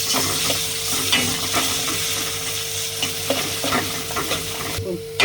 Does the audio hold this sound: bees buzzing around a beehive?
no